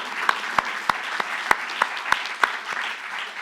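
Slow, evenly spaced handclaps sound at an exhibit opening reception for a Spanish immigrant history exhibit, about nine sharp distinct claps in steady rhythm with light room noise between them.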